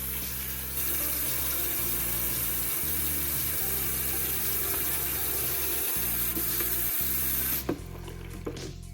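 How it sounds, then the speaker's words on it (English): Hot soapy water running from a tap into a bowl, a steady hiss and splash with a few short interruptions in the flow, stopping near the end with brief clinks. "fill up a bowl with hot,"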